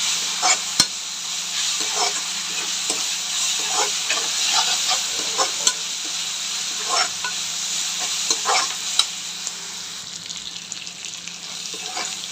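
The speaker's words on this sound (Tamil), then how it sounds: "இதுவுமே இஞ்சி பூண்டு நல்லா பச்சை வாசனை போகிற வரைக்கும் நல்லா வதக்கிக்கோங்க." Ginger garlic paste sautéing in a pan with onions for a mutton potato kulambu: a continuous close sizzle with scattered stirring scrapes and clicks throughout, no talking.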